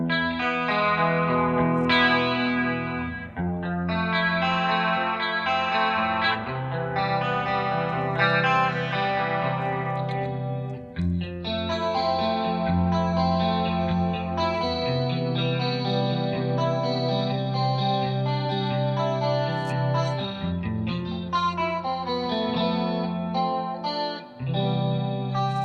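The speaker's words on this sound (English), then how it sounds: "And here's the dry sound, and engaging the chorus pedal." A clean electric guitar through an engaged chorus pedal, playing sustained chords and melodic lines with a wide, shimmering, slightly wavering tone, loud and continuous with no talking.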